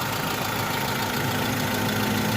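Suzuki Cultus EFI engine idling rough and vibrating with one injector disconnected, a continuous, close, loud rumbling drone with an uneven low throb, no talking over it.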